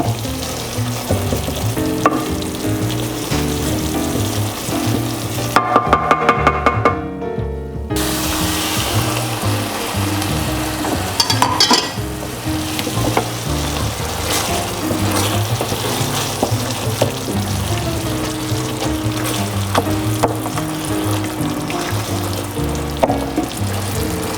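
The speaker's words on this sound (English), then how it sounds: "Now we start adding in our broth." Leek and arugula risotto simmers with a steady sizzle and bubbling as broth is poured in and stirred, loud and close throughout, with a brief burst of louder pouring or stirring partway.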